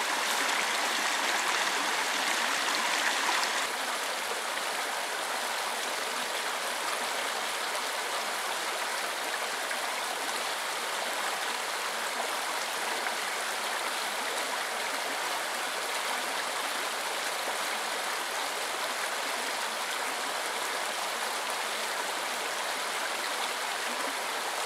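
A stream flows steadily in an outdoor bushcraft setting, its broadband rushing and trickling water constant and fairly close throughout, slightly louder at the very start, with no voices.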